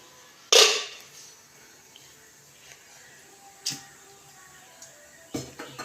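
Cooked ragi idli come out of a steamer with one loud metallic clank of a lid or plate, followed by a few softer knocks and clatters, with no speech.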